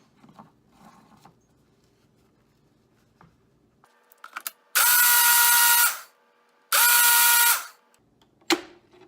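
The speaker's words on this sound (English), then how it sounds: "Now we'll screw on the lid, blend it up" A blender whirs through eggless nog spiced with fresh nutmeg in two loud bursts of a few seconds each, separated by a short pause, after quieter clicks and handling of the lid and cup.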